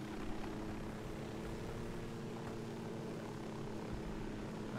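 Aircraft in the Ghost Recon Wildlands video game flying in to land, its propeller engine droning steadily and evenly throughout with a constant hum.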